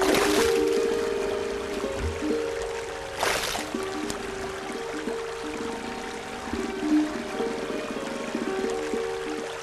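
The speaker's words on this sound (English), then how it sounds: "And the result is a big and splashy bath." Bonnet macaques bathe in a cold mountain river, and water pours and splashes in two sharp bursts over a continuous trickle and stream, with a faint tonal hum in the background.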